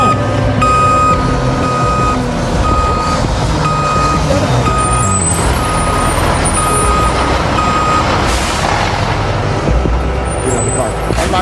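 Truck reversing with a steady repeating backup beeper over a rumbling engine and brief air-brake hiss, with voices talking over it nearby.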